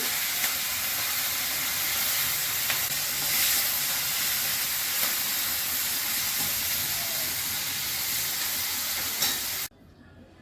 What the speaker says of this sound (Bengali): সর্ষের তেল দিলাম, চিংড়ি মাছটা ভেজে নিচ্ছি।